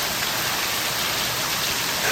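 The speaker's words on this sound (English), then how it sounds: "It's raining outside." Steady rain falls outside on a Florida afternoon, a dense, even hiss of droplets that continues without a break.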